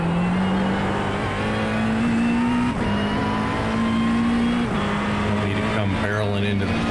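McLaren race car engine at the Long Beach street circuit, a steady loud droning tone carried under the driver's voice as it bears into a corner and exits, with pitch dips and rises through the shifts.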